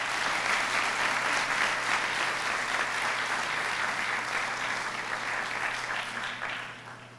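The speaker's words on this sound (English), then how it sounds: "Round of applause, please." Sustained audience applause at a press conference, a dense wash of many hands clapping at once, steady and loud, then thinning slightly toward the end.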